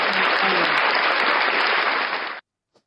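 A congregation at a church service gives a burst of loud, dense applause that holds steady for a couple of seconds and then stops abruptly, leaving near silence with one faint sound after.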